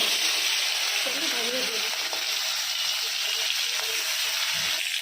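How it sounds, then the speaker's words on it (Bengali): Prawns rubbed with turmeric and salt frying in hot oil: a loud, dense, unbroken sizzle close by, with faint stirring noises underneath. "চিংড়ি মাছগুলো ভাজা হয়ে গেছে"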